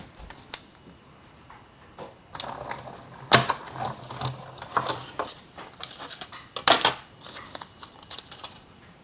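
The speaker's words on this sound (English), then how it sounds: "Bring in our Stampin' Cut and Emboss machine, get it set back up to die cut by putting that number 2 in there." A Stampin' Cut and Emboss machine die cutting cardstock at a kitchen table, scattered clicks, ratcheting creaks and a few sharp snaps at close range, fairly quiet and irregular, no voices.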